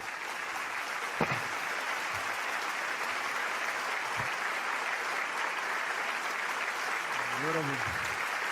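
Sustained applause and cheering from a large rally audience for President Xanana Gusmão, a steady dense roar of clapping throughout, with a brief voice rising near the end.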